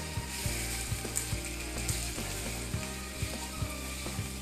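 Beef steak begins to cook in hot olive oil in a pan, with a quiet steady sizzle and a regular series of soft clicks and taps running through it, without any talking.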